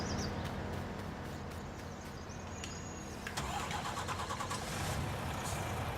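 A truck engine in the farming video game Farming Simulator 19 runs and then cuts off, a mid-pitched mechanical hum with clicks and a brief change near the middle, fairly quiet and without talk.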